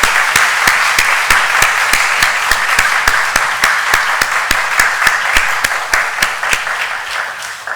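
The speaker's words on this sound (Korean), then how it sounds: "우리 모두 다 같이 박수로 하나님께 영광 올리도록 하겠습니다." A church congregation at an afternoon service for a summer-events report claps together in a steady, rhythmic unison beat, loud and close, sustained without any talk throughout.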